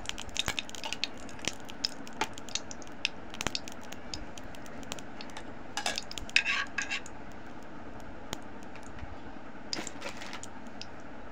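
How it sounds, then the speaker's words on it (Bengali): Lachha semai vermicelli fries in ghee in a pan: scattered light clinks and scrapes of a spoon against the metal pan over a low, quiet background, irregular and sparse, with no talking. "আমি 2 চামচ পরিমাণ ঘি দিয়ে সেমাইটা ভেজে নিব।"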